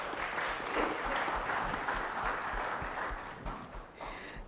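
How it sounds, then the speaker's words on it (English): Event audience clapping for a pharma panel discussion, a continuous, moderately distant wash of applause with a low rhythmic thump underneath, thinning toward the end. "may I request everyone to give them a huge round of applause"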